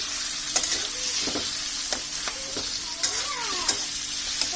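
Chicken pieces fry in hot oil over high heat, a dense constant sizzle with repeated spatula scrapes and clacks against the pan at irregular intervals, close and fairly loud.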